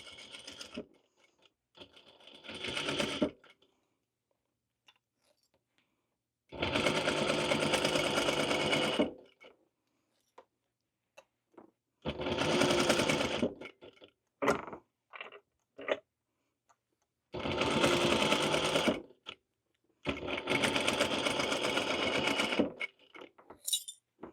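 Sewing machine stitching fabric ghost pillows in bursts of a few seconds each, loud and close, separated by quiet pauses with small handling clicks and rustles.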